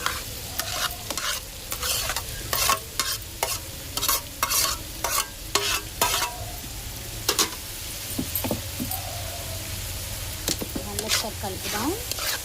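Tomatoes frying in a pan with ginger paste, stirred with repeated scraping strokes over a steady sizzle; faint background voices at the end.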